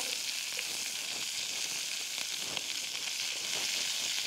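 Cabbage frying in bacon fat in a pan gives a steady, dense sizzle that crackles evenly throughout, close and alone with no voices.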